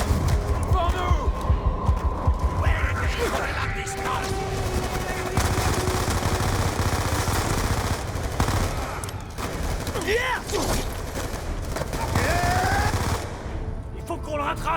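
Dense, continuous gunfire in Call of Duty: Black Ops II, with machine-gun fusillades and rattling bursts throughout, loud and close, while voices shout in French over the shooting.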